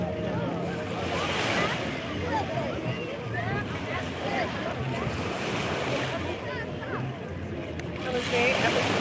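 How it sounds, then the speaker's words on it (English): Ocean surf washing in steadily at Orchard Beach in the Bronx, a broad continuous roar with swelling breakers and wind buffeting the microphone, no talk. "We are at Orchard Beach in the Bronx."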